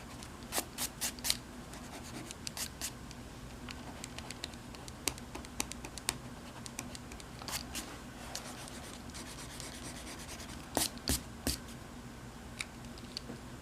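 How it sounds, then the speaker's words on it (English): Eraser rubbing out pencil smudge marks on a dinosaur drawing on paper, heard as faint close scratchy strokes and soft taps in irregular bursts over a quiet background. "To erase the smudge marks here"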